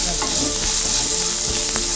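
Vegetable pieces salted for veg fried rice sizzle and crackle steadily in a hot pan, a close, continuous frying hiss with faint stirring clicks and no talk.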